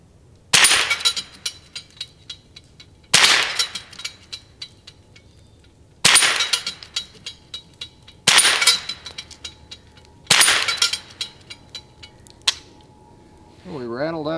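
Five sharp shots from a Ruger 10/22 Takedown rifle firing subsonic ammunition at a bullseye target, spaced a few seconds apart, each a crisp crack followed by a brief ringing clang, with a short voice at the end.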